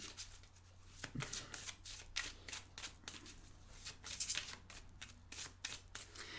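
Oracle cards are shuffled close up, giving a run of quick soft riffling flutters and slaps at an irregular rhythm, quiet and without talk.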